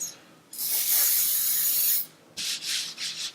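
Spray tan hisses from a nozzle onto arms at close range, one long steady burst followed by several short pulsed sprays.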